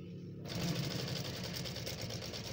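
A sewing machine runs steadily with silk thread, stitching a cut-band front strip, starting abruptly after a brief quiet and continuing as a close, even mechanical whir with a rapid rhythmic pulse.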